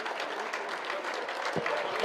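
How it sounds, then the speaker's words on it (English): An audience claps continuously at the valedictory session of a university academic conference, dense steady applause with a voice speaking over it. "Continue the clap. Everyone keep it up."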